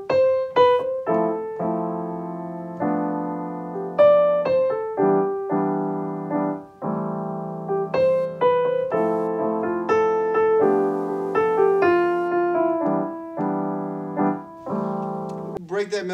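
A piano playing a melody over chords, a bright right-hand tune above sustained left-hand harmonies in a steady, close, loud performance with no talking.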